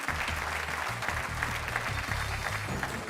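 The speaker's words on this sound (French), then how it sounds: "Tout le public vous applaudit" Studio audience clapping on the French TV game show Les 12 Coups de Midi, a continuous even wash of applause with a low musical tone underneath.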